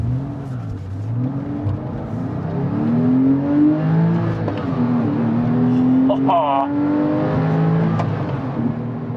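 A Porsche engine hums and whirs steadily from inside the moving car, with someone talking over it throughout.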